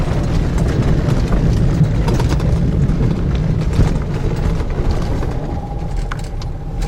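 Car driving through a deep river ford near Vottovaara, a loud, continuous churning rumble with splashing water that lasts about seven seconds and eases slightly toward the end.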